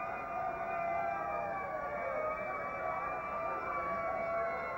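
The siren of a miniature fire engine wails in a 1960 Chicago rally parade, rising and falling continuously above steady crowd noise at moderate distance.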